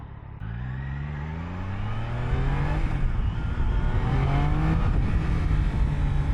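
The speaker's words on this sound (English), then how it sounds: "The 3-cylinder is incredible. You can immediately feel the torque." A Triumph Daytona 660 three-cylinder motorcycle engine pulls hard from low revs, its pitch climbing steadily through the gears in a loud, close, continuous rising whine with no talk over it.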